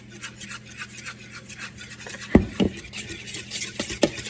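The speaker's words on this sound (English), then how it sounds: "I'm just gonna whisk that together." Flour and salt whisked together in a bowl while making raspberry almond shortbread cookies: a soft, steady scratchy rubbing with a few sharper taps of the whisk against the bowl, close and fairly quiet.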